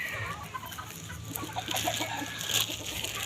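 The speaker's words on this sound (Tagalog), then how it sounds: "May manok, may duck." Backyard chickens, kept alongside ducks, cluck in soft, scattered bursts throughout, near and moderately loud, with a few sharper calls toward the end.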